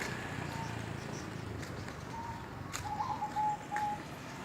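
Soft, low cooing notes from zebra doves (perkutut) rise faintly over a steady outdoor background hum in a village in Ngawi, Indonesia, with a few scattered distant chirps.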